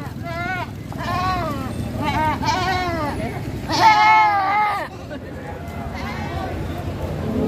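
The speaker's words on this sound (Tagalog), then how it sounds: "10 pirasong kambing. Mga alagain." Goats bleating at the Padre Garcia, Batangas livestock auction market on a rainy day, several wavering calls from a few animals nearby over a murmur of crowd noise, with one louder, longer bleat near the middle.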